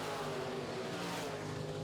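Midwest Modified race cars on a dirt oval track with laps winding down produce a continuous, moderately distant engine drone, a steady roar with no break and no voices.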